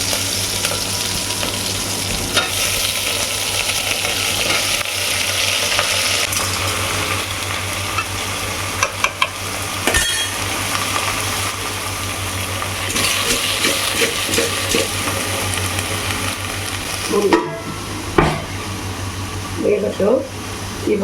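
Vegetables and green chilies frying for sambar, a loud, continuous sizzle with scraping stir strokes, and a person talking over the cooking toward the end.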